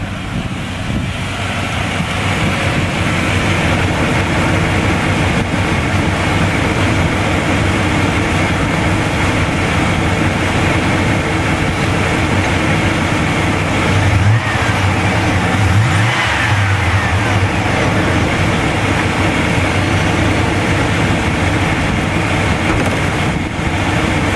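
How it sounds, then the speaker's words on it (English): A Chevrolet K1500 pickup truck with an aftermarket exhaust idles steadily, recorded close to the exhaust, with a deep, rumbling drone, loud and unchanging throughout. "I'll just put it back here by the exhaust so you can hear what it sounds like from reasonably close up"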